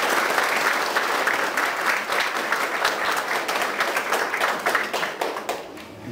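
A crowd applauding the Virgin of Guadalupe at an outdoor patron saint festival, dense sustained clapping from many hands that tapers slightly toward the end.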